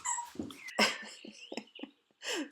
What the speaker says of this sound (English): My dog was playing with her toy.